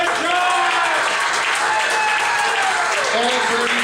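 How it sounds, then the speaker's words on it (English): An audience at a tabernacle gathering breaks into continuous applause, the clapping dense and sustained while a voice talks and calls out over it. "Give him a round of applause, ladies and gentlemen."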